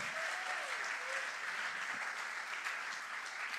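Sustained applause from a church congregation during a sermon, a dense, steady wash of many hands clapping throughout, fairly close and full, with faint voices mixed beneath.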